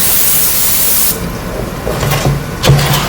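An aerosol can of non-stick cooking spray coats aluminum foil with a loud, steady hiss lasting about a second. It cuts off abruptly, and light handling taps and rustles follow.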